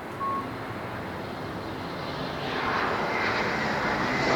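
An Airbus A321 jet airliner arriving at LAX produces a broad, steady roar that swells louder toward the end as it draws closer, heard alone without talk.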